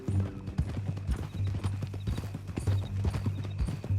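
Hooves of a horse clip-clop in a steady walking rhythm in Red Dead Redemption 2, close and clear, with faint game ambience beneath.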